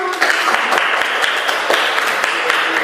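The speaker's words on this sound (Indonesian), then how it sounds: "Tepuk tangan." Steady applause from a group after a classroom presentation, dense and continuous throughout with a few sharper individual claps standing out.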